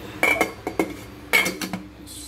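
A metal lid is set back onto a cooking pot of sinigang na tilapia with vegetables, giving a few close, bright metallic clinks and clatters in two short bursts.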